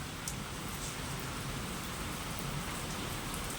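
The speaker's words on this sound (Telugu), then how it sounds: "చూడండి వర్షం వస్తుంది పెద్దగానే వస్తుంది" Steady, dense downpour of heavy rain drumming on surfaces, unbroken and fairly close, with no voices.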